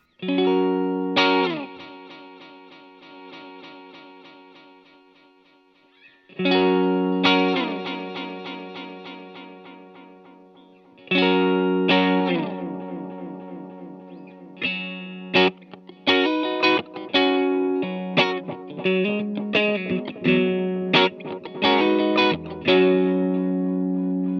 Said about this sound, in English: Let's go to tone, bring that up, and that'll give us a nice bright delay.